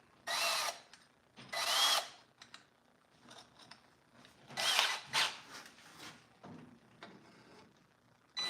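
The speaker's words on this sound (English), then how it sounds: "I don't know if my drill will even go through there, but we'll try." A handheld power drill whirs in short bursts in a workshop while a bandsaw is being set up, several brief runs of a second or so separated by quieter handling noises, fairly close.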